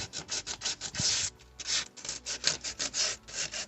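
A plastic car bumper piece is sanded by hand in fast, rhythmic back-and-forth strokes. The loud, close rasping repeats steadily with one brief pause partway through, and no voices are heard.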